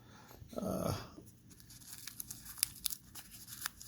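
Strips of tape peeled from fabric, one longer rasping tear followed by a run of small sharp crinkles and snaps, close and fairly quiet.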